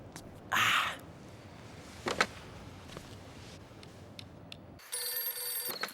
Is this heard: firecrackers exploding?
no